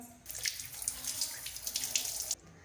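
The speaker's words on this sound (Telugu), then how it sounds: "ఇప్పుడు దీన్ని వాటర్తో క్లీన్ చేసుకుందాం" Water runs steadily from a tap for a couple of seconds, a broad hiss with small splashy fluctuations as a bottle gourd is rinsed under the stream, then stops.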